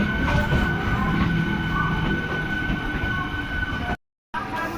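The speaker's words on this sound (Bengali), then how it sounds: "আমাদের ট্রেন এখন এসে পৌঁছেছে সিঙ্গুতে" An express train on the Tarakeswar line rumbles steadily along the rails, heard from inside a carriage, arriving at Singur, with a constant roar and faint rhythmic clatter before a brief dropout.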